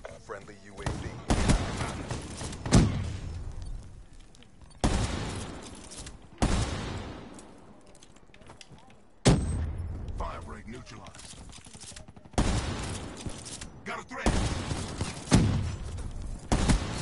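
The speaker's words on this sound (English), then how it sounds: "sniper shots on me" Sniper rifle shots ring out in a video game: loud, heavy cracks arrive every couple of seconds, each trailing into a rolling echo, with quieter stretches between them.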